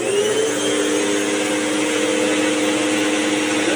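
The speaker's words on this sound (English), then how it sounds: "turn the other vacuum on and tilt it to the back" A vacuum cleaner runs tilted back while its suction is used to clean another vacuum's brush. It gives a steady, close, loud motor whine with airy hiss, alone and unchanging throughout.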